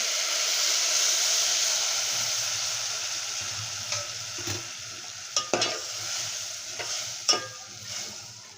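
Milk goes into a pan of vermicelli kheer toasted in ghee, raising a loud broad hiss that slowly fades, followed by scattered spoon scrapes and clinks against the pan as it is stirred.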